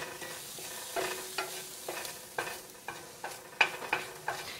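Garlic cooks in a dry pan as a utensil stirs it in repeated scraping strokes, about eight at a regular pace, over a soft sizzle, close and without voices.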